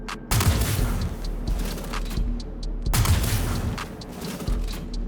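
Two heavy sniper shots from the Atzkav rifle in Star Citizen, each a sharp booming report with a lingering tail, spaced about two and a half seconds apart over a low steady rumble.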